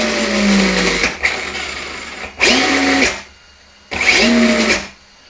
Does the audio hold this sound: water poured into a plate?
no